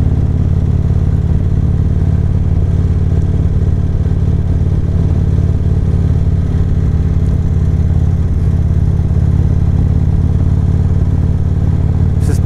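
An Indian Springfield Darkhorse motorcycle cruises along with a steady, loud low engine rumble mixed with wind roar, the tone holding constant throughout and no one talking.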